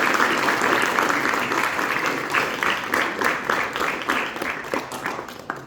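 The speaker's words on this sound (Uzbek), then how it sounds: "Guldiroz qarsaklaringiz." An audience claps at a concert by a first-year ensemble of traditional instrument students at an art school, a dense wash of applause that turns into more rhythmic, distinct claps toward the end.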